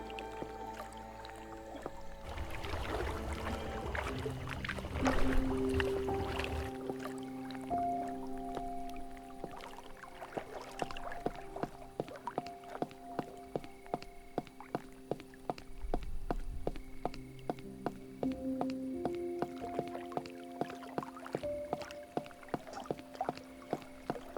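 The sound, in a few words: boat on water in Cabernet video game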